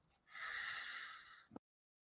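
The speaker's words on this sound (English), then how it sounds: "I have to blow my nose." Someone blows their nose in one long, close, honking exhale that ends abruptly in a short snort.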